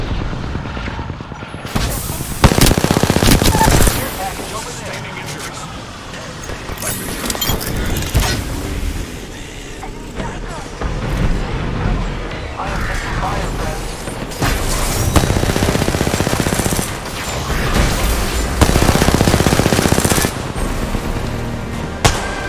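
Sustained bursts of gunfire in Apex Legends ranked play while under attack, heavy automatic volleys and booming impacts repeating across the stretch, loud and busy with no speech heard.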